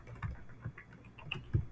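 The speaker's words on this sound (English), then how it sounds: "I'm tapping on the keyboard, trying to think what's happened." Irregular tapping of keys on a computer keyboard, close and fairly quiet, with several light clicks and a few heavier key strikes in an uneven rhythm.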